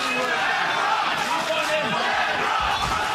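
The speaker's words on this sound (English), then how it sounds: "the crowd here chanting for Sonmez" Crowd at a combat sports event chanting for fighter Emrah Sonmez, a loud sustained roar of voices filling the arena with rhythmic swells, mixed under commentary.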